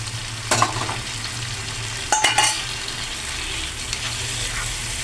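Grated coconut tipped into a frying pan of ridge gourd and poppy seed paste, with a couple of scraping stirs and a clatter against a low hum of the stove, without speech.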